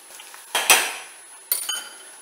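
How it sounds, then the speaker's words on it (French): Shrimp go into a pot of translucent cooked onions for ndolé, making two quick clattering bursts of metal and a brief sizzle, close and fairly loud, with quiet pauses between them. "Je mets mes crevettes."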